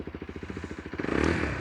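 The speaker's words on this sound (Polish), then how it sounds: "Czuć, że tutaj silnik e, generuje troszkę więcej mocy, nawet wkręcając go na obroty" A Junak SC125S motorcycle engine runs close by with a quick, even single-cylinder thump that speeds up and swells into a louder rev toward the end.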